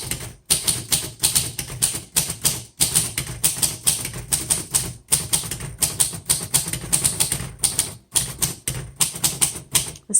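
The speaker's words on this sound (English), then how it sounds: "Those of you who've typed on typewriters before know the feel of the keys is everything." A 1937 Royal Model O manual typewriter being typed on, with rapid, steady bursts of crisp key strikes and short pauses between runs, close and loud with no talking.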